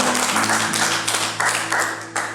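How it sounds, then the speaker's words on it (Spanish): A church congregation claps together in a short burst of applause, uneven and dense at close range, with no talk over it. "Dale un fuerte aplauso a Jesús."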